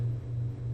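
A refrigerator's steady low electrical hum drones quietly and evenly, with faint background hiss and no other sounds.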